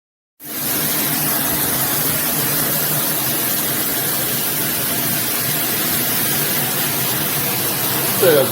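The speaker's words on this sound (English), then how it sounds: "That's the sound of hard, high power water." High-pressure 3-inch fixed Aisoso shower head spraying hard water against a tub, a steady loud broadband hiss that starts abruptly and continues unbroken, close and alone.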